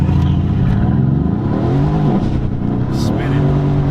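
A Mercedes C63s AMG Coupe is floored from a stop, and its engine roars loudly and continuously with rising revs through the gears as the wheels spin, all heard from close by inside the car.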